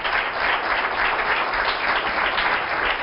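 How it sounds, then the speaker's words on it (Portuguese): A studio audience on a Portuguese television talk show applauds loudly and steadily, a dense even wash of clapping throughout. "um aplauso para esse namorado, vá lá"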